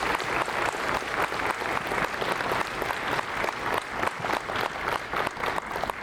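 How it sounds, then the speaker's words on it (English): Audience applause at an annual group recital concert; continuous dense clapping from a crowd, steady and moderately loud throughout. "can we please get a round of applause?"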